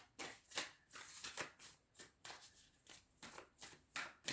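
Oracle cards shuffled by hand before a Moonology reading, a run of crisp riffling bursts repeating about every half second, close and fairly quiet, with no talk.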